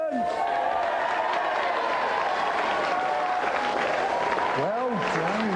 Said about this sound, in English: So let's have a big round of applause for both of our contestants.